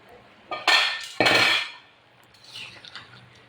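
Metal lid lifted off a covered pot of simmering katla fish curry with potatoes and ridge gourd, two sharp clanking scrapes of metal on metal close by, followed by faint clinking.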